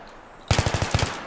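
A rapid burst of automatic gunfire in Battlefield 3 breaks out after a quiet moment, about nine sharp, evenly spaced shots sounding loud and close.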